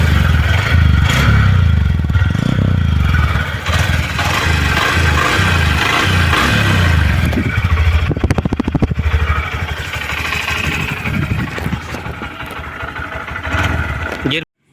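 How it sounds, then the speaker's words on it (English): A motorcycle engine runs close and loud with a throbbing exhaust beat, revving and settling through the clip, while a voice talks over it at times. "Now you hear the engine performance and the exhaust beat"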